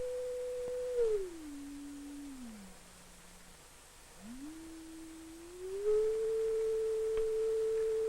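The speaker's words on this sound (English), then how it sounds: "We'll generate the tone in this oscillator." An oscillator's pure sine tone steps down to a lower pitch, holds, cuts out briefly, then glides back up to its starting level; steady, clean and alone over a faint hiss.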